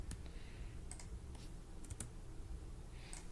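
Rapid, uneven clicking of keys on a computer keyboard while a recipe is being typed, close and fairly quiet, with short bursts of keystrokes and no talking.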